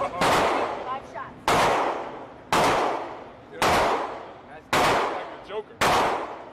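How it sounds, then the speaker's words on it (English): A Remington 700 rifle fires six sharp, loud shots at a gun range, spaced about a second apart, each crack followed by a decaying echo, with faint voices between shots. "It's a Remington 700."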